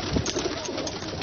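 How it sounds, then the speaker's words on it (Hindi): Ali wale pigeons from Lahore cooing up close, a few soft low throaty coos over a faint steady background hiss, brief and quiet. "तो ये अली वाले ये कबूतर हैं"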